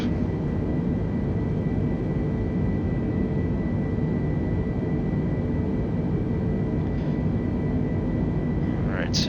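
Airbus A320 engines spooling up in Microsoft Flight Simulator 2020, a broad, steady roaring rumble of turbine noise that holds at an even, fairly loud level, with a faint higher whine layered on top.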